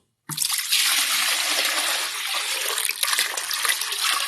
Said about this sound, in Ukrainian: Зливаємо акуратненько воду.